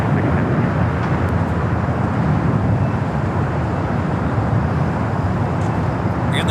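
An Airbus A330-900neo airliner on arrival from Frankfurt at LAX passes as a steady, broadband jet roar that holds a constant level throughout, with no voices.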